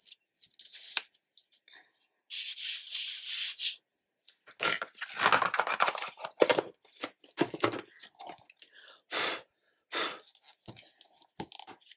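A powder tool is brushed over a craft surface to dust off loose embossing powder. It makes soft, breathy rubbing swipes in short, irregular bursts separated by near silence.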